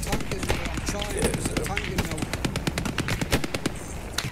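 Rapid gunfire fills the scene in the video game Post Scriptum, with overlapping automatic bursts and individual shots crackling close by. Voices sit underneath the shooting.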